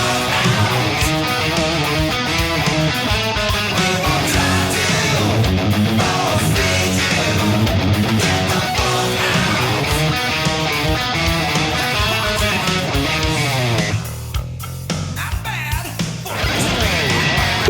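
Full band with electric guitar tearing through the first chorus of a song, loud and dense with driving funky rhythm, briefly thinning near the end before resuming.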